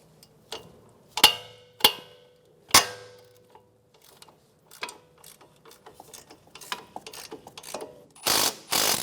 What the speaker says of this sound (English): Using a 12mm socket, we're going to remove the brake hose bolt.